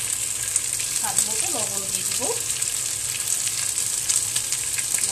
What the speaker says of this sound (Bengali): লবণ দিয়ে আমি আরেকটু ভাজবো